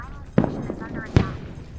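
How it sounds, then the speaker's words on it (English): Two sharp thumping launches from a missile turret in the game Astro Looter: Survivor, spaced under a second apart, punching through a man's ongoing speech. "The missile turret is actually quite loud compared to some of the other effects in the game"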